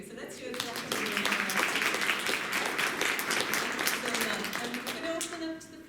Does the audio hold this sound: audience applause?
yes